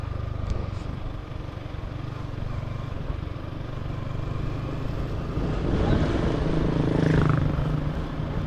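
Motorcycle ridden outdoors across wide open land, with a steady low engine rumble and wind noise that holds through the ride and swells slightly louder near the end.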